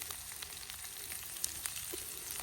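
Peppers and whole cherry tomatoes frying in a pan over an open fire, a soft, steady sizzle with occasional small pops and crackles, faint and continuous with no voices.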